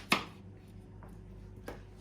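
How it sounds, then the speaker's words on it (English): A knife slices skin-on potatoes into medium slices on a board, two quiet, separate chops about a second and a half apart against near silence. "And then just chop them into medium slices."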